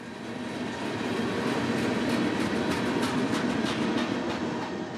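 A Norfolk Southern freight train running on CSX main line trackage near Chattanooga, Tennessee, gives a steady, loud rolling rumble with faint rhythmic clatter of wheels over rail joints throughout.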